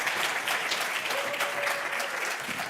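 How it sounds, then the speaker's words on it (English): A panel audience applauds steadily, a dense wash of clapping hands that holds at an even level throughout. "Can we please give them a warm round of applause?"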